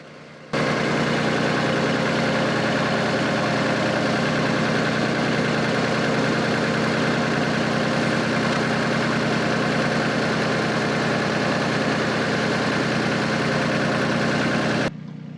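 A tractor engine runs while pulling a garlic planter in a field. It starts abruptly and then holds a loud, steady mechanical drone with constant vibration for the whole stretch, ending just as sharply, with no speech.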